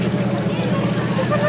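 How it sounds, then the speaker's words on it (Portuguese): Water pouring heavily from an open tap onto a floor in Venice, Italy, a steady dense rushing hiss throughout, loud and close, with a voice speaking over it. "Aqui é uma torneira que está aberta aí, caindo muita água e sujou um chão de água lá."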